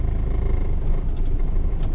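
The engine of a 2003 Isuzu D-Max pickup runs steadily at close range, a low, even hum and rumble with no talk over it.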